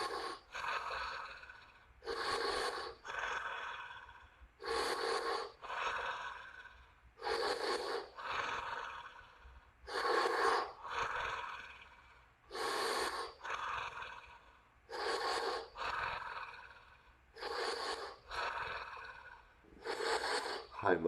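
Deep, forceful nasal inhales and long, calm exhales repeat in a steady rhythm about every two and a half seconds during a morning breathing exercise, close and clear with no talk.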